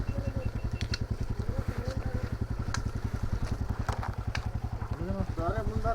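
Motorbike engine chugging steadily up close as the bike rattles and shakes over a rough short-cut road, with a rapid, even pulse throughout and voices talking over it.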